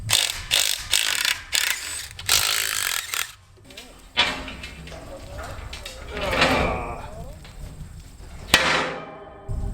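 A 3/8 ratchet wrench clicks through bursts of rapid pawl ratcheting mixed with metallic clanks and handling noise, close and fairly loud, with people talking intermittently over it.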